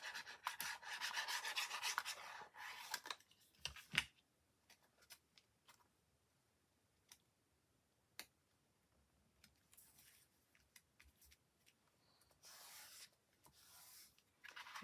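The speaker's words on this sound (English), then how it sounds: "open your card and rub from the back" Rubbing on the back of Pink Frog watercolour card, a soft papery rasping that comes in bursts, strongest at the start and again near the end, with quiet gaps and scattered light taps between.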